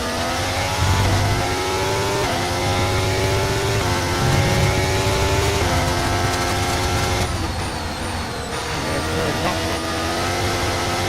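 Mercedes Formula 1 car in the F1 23 racing game on a street circuit, a loud continuous high-revving engine whine that rises and shifts through gears, with a voice talking over it.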